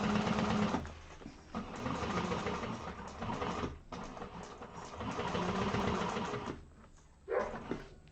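A sewing machine runs in long bursts while stitching a bag seam 3/8 inch in, with a steady motor whir and brief pauses between runs.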